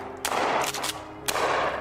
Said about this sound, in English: Let's shoot this thing.